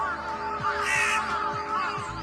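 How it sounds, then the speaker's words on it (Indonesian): A crow caws in several harsh, raspy calls over a steady background, moderately loud with no talking. "Soalnya diawasin sama burung gagak di atas."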